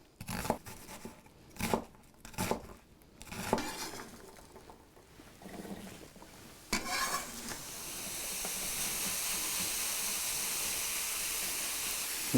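Vegetables stirred in a pan for a sauce of onion and canned peeled whole tomatoes: a few scraping, clattering strokes, then a steady close sizzle of frying that rises and holds to the end.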